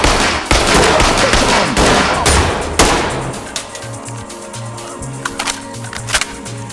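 Gunfire rings out during a SWAT raid in a video game: dense bursts of rapid shots in the first few seconds, then scattered sharper cracks and thuds as the shooting tapers off.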